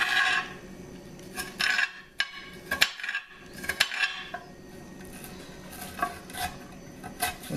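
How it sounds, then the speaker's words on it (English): A knife chops an onion on a cutting board, irregular sharp close taps and clacks in a loose rhythm with quiet kitchen background between strokes. "Just keep chopping that up, don't chop your fingers."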